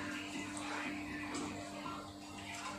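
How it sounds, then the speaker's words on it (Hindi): Water trickles and splashes softly as a wet cloth is twisted and wrung out during a forearm exercise, a quiet, continuous dribbling close by. "पानी खत्म, वापस डालो, वापस निकालो, जब तक निचोड़ना जाए करते रहो।"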